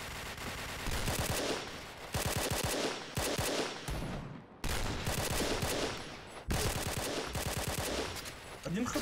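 Rapid bursts of automatic fire from a K2C EBR rifle in the online shooter Point Blank, loud and close, in several sustained volleys separated by short pauses, with faint speech in the background.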